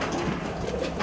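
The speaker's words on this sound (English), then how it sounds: "This is the pigeon." A racing pigeon hen gives a brief, soft, low coo against steady background noise.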